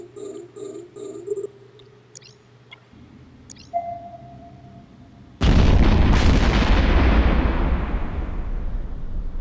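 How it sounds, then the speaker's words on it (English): A spaceship explodes in the video game EVE Echoes. Beeping interface tones and electronic chirps come first, then a sudden loud blast that rolls into a long, decaying rumble. "blowing up the ship, and the Drake has been destroyed"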